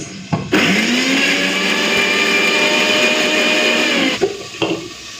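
A mixer grinder grinds spice paste for a pomfret fish curry with taro, a loud steady motor whirr running for about four seconds between brief start and stop bursts, with no talking.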